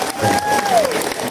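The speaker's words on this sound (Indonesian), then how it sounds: "Masya Allah, tepuk tangan buat UNER" An audience on the UNAIR university campus breaks into applause with some cheering, a brief dense burst of clapping and crowd noise, with a whistle-like tone sliding down through it.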